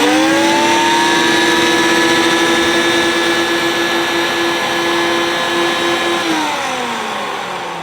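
A Hoover S3200 Compact vacuum cleaner runs with its motor cover off, giving a loud, steady high-pitched motor whine that holds evenly, then dips in pitch and softens near the end as it winds down.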